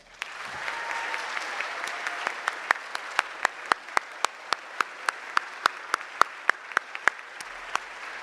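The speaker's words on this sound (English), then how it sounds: "please give them a really riotous round of applause of thanks" Audience applause at a school prize day, a steady wash of many hands clapping with sharp individual claps popping out at regular intervals, continuous and fairly even throughout.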